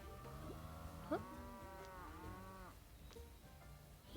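A cow moos with a drawn-out, wavering call across most of the moment, fairly near and clear, with a brief sharp knock partway through and faint farmyard background.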